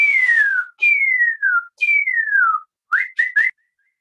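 A person whistles an imitation of a Northern Cardinal song: three clear, loud downward-sliding notes, then a quick run of short rising chirps, with no other sound behind it.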